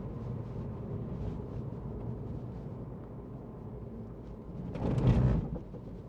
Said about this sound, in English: I'm here going through big puddles